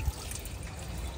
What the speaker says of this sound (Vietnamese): nước từ ống xả ra này